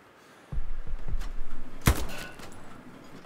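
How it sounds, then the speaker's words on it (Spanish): Gunfire in the World War II shooter Hell Let Loose on the Omaha beachhead: a few low thumping shots, then one sharp loud crack that rings out and decays into a rumbling tail. "Disparos disuasorios sobre el humo"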